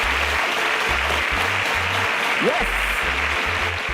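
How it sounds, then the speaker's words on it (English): An audience at a national science competition event applauds continuously, a dense sustained roar of clapping, while a low pulsing music bed runs underneath and someone briefly speaks over it. "Can we give a round of applause to these superstars?"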